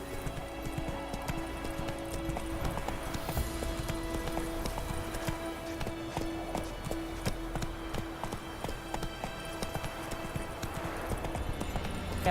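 Horse hooves pounding at a gallop in The Witcher 3, a steady rapid clip-clop rhythm that continues throughout, moderately faint, with occasional quiet game sounds.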